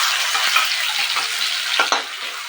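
Cumin, mustard seeds and curry leaves frying in hot oil for a misal curry give a loud, dense, continuous sizzle up close, with a few faint crackles and pops near the end and no talk.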